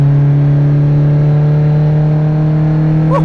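Ferrari 308 engine humming steadily while driving in traffic, a loud, even drone with strong low harmonics heard from inside the car and no hard revving.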